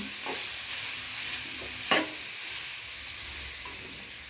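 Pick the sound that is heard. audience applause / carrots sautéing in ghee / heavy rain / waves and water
carrots sautéing in ghee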